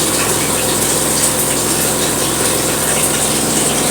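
Sharp ES-T86CL top-loading washing machine running and pumping water, a steady, close gushing and churning with a low motor hum underneath, continuous and fairly loud without any talk.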